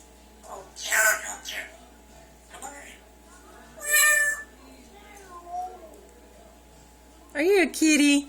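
A pet parrot named Seneca gives a few short meow-like calls in imitation of a cat, with a voice talking to the bird nearby between the calls.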